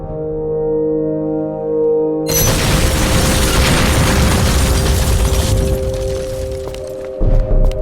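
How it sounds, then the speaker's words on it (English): A loud explosion bursts in The Incredible Adventures of Van Helsing: Prometheus, cutting in sharply over a droning machine hum and rumbling for several seconds before decaying, with a final thump near the end. "so the whole thing will explode"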